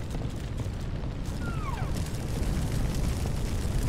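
Steady roaring rush of a building fire in the Firefighting Simulator game, a dense continuous broadband noise with a low rumble that stays loud throughout, with a brief faint whistling sweep partway through.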